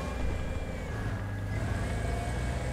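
A ZA-35 anti-tank vehicle engine in War Thunder rumbles steadily with a low droning hum and faint whine, moderately loud and constant with no talk over it.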